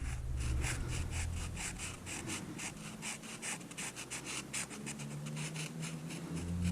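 A Sharpie marker coloring in the tip of a drill bit, a quick run of soft rhythmic scratchy strokes close up against faint background hum, with no talk.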